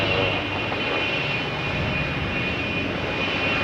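Boeing 777 jet engines at Toronto Pearson Airport, a loud, steady roar with a thin high whine running through it, continuous and close, with no voices.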